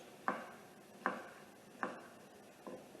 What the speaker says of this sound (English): I know my chopping skills aren't the best.